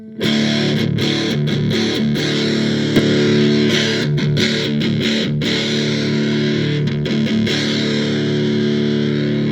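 An electric guitar plays through a Pi-Rat distortion pedal with LED clipping, a thick, fuzzy, sustained tone with strummed chords, loud and continuous.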